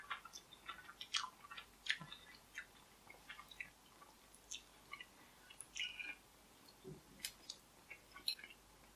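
Someone chews a mouthful of injo gogi bap, a North Korean rice dish with fake meat, making faint close-up wet smacks and soft crunchy clicks in an irregular rhythm, with no talking.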